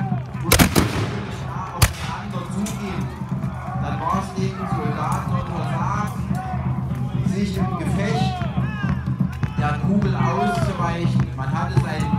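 Sharp, loud musket shots crack twice near the start of a Landsknecht battle reenactment, followed by a dense battlefield din with a crowd murmuring and shouting throughout.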